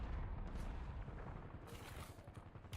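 Pistol gunfire in Call of Duty: Black Ops 7 sounds as faint, distant shots within a dense, rumbling battle mix, with no clear single report standing out.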